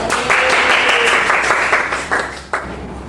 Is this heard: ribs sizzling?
no